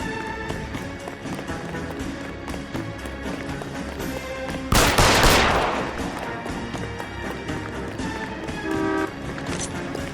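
A single loud, broad gunshot blast bursts out midway through a scene in the detective game L.A. Noire, ringing briefly before fading back into a steady busy game background.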